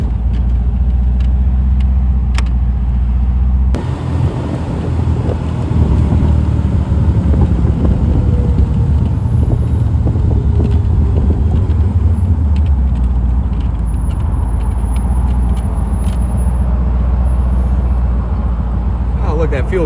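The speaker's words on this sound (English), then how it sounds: "Hopefully we can get some of the exhaust noise." A Morgan Plus 8 roadster on the move, its engine and exhaust droning loudly beneath constant buffeting wind noise from the open cockpit, with a shift in engine tone early on.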